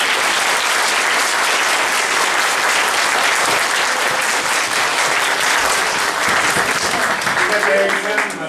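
Warm applause from an audience honouring a young actress named Gizem, age about 12 or 13, at a stage play; dense, steady clapping fills the whole stretch at full strength.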